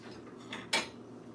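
A small salad plate being handled in a home kitchen, one soft ceramic scrape followed by a single brief clink against a quiet background.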